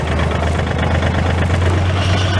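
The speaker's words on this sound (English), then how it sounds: "We left it hooked to the tractor here so you can see it operate." A 1996 tractor runs with a Woods RM660 72-inch finish rotary mower hooked to its 540 PTO, giving a steady loud low engine drone with a constant hum and no talk.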